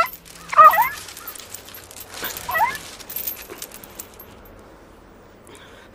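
A dog caught in a trap whimpers and yips in two short bursts, fairly close, then quiets into faint background noise.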